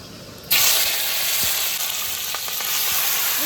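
A sudden loud sizzle bursts in after a brief pause and keeps hissing steadily as tomatoes and green chilies fry in hot oil in a wok, with no talking.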